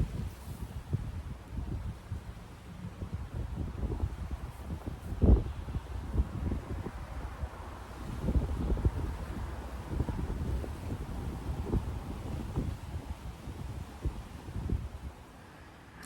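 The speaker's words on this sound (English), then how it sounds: "listening to things blow in the wind." Wind gusting outdoors: a steady, unbroken low rumble of air across the microphone, with faint rustling and occasional stronger buffets, and no voices.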